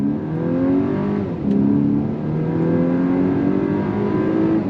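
A 2024 Volkswagen Atlas midsize SUV pulling away from a full stop under throttle, engine note climbing steadily through the revs with a brief shift-like dip, heard clearly from inside the cabin.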